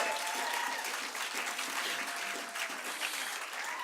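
Audience applause at a Television Academy honors ceremony, a dense, steady burst of clapping from a large crowd, loud and sustained throughout without speech on top.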